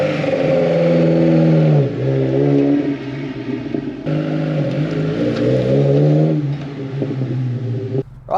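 Engine of a Mk1 VW Caddy fed by twin Weber 45 carburettors running loud and close, a throaty rumble that rises and falls through several revs and settles, with no talking.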